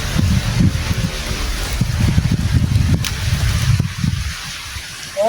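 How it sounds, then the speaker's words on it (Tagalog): Strong wind buffets the microphone in a continuous low, gusty rumble, loud and close. "Lakas ang hangin."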